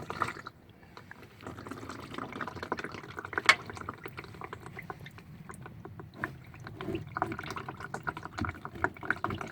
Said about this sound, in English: While the oil is draining, it's best to wipe off and clean up the oil drain plug.